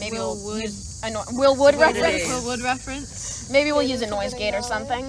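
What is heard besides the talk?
cicadas buzzing in the background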